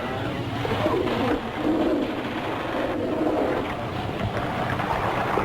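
A dove coos in a soft, repeated pattern over a constant broadband hiss, moderately loud and with no talking.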